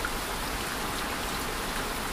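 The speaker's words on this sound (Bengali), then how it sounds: "বাইরে তখন তুমুল বৃষ্টি" Heavy rain pours steadily in a horror story drama, a dense, even, loud hiss of falling drops with no voices or breaks.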